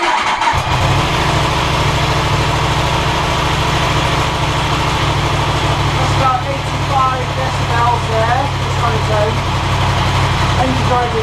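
A 2016 Yamaha R1M motorcycle with an Arrow titanium race exhaust, already warm, starts and settles into a loud, steady, rumbling idle with a few revs, while someone talks over it.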